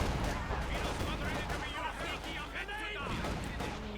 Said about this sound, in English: Looks like a mine went off there.